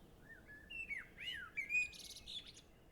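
A blackbird sings in a garden, with clear whistled phrases and chirps rising and falling over a quiet background, fairly faint and alone.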